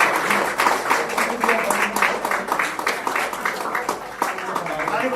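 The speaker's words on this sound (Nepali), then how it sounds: "हामी ताली बजाएर हामी स्वागत गर्छौँ।" A crowd at a church land-donation ceremony claps as a banner is inaugurated, with uneven, sharp hand claps of moderate loudness running under voices that keep talking.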